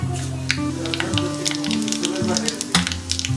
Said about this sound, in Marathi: मोहरी तडतडली की जिरे घालूयात